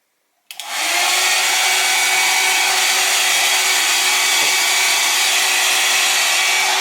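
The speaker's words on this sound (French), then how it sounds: "Avec un coup de sèche-cheveux." A hair dryer blowing on acrylic paint on canvas switches on abruptly and roars steadily, a loud close whooshing airflow with a constant motor whine and no talk over it.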